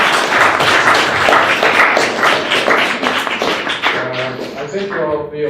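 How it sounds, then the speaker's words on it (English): Audience applause for five panelists at an alumni association expert panel on climate change, a dense rattle of many hands clapping that gradually thins out, with a voice beginning to speak over it at the end. "I want a big round of applause for our 5 great"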